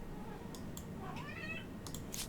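A house cat gives a short meow with a rising, wavering tone, fairly quiet and close over a steady background hiss, with faint voice-like sound nearby.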